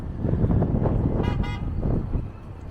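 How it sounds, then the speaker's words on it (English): A car horn toots in two short bursts amid rumbling rush-hour traffic at the busy Wilson intersection in Toronto, engines and road noise filling the background. "And I'm hearing some honking too."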